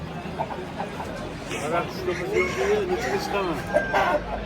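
A rooster crows at a busy bird market, its call rising above clucking fowl and nearby chatter, with people talking throughout.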